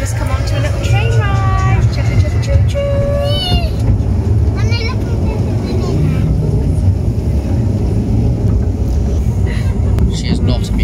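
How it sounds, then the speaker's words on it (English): A small ride-on train at a farm park rumbles along steadily under loud wind-like noise, with children and adults talking throughout. "we've just come on to a little train ride."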